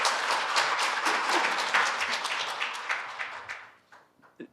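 An audience at a Korean university forum applauds just before a congratulatory speech, with dense, steady clapping from many hands that holds strong for several seconds, then thins out and trails off into a few scattered claps.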